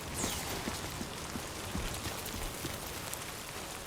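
Steady rain of Timefall from the video game Death Stranding 2 pattering across surfaces, a dense, even hiss with scattered soft droplet ticks, continuous and moderately faint, with no voices.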